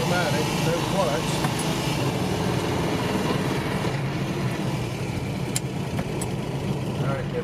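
A 1975 Chevy Luv pickup, an automatic that has to be shifted by hand, runs with a steady engine hum and rumble while a person talks over it throughout.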